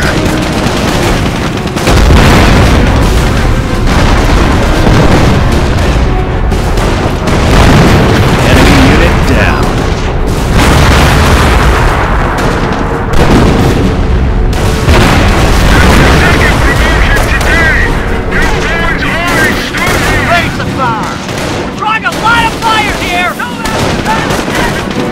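Artillery explosions and gunfire on a Normandy invasion battlefield in Company of Heroes, heavy booms mixed with steady rifle and machine-gun fire throughout a loud, continuous battle, with voices talking over it.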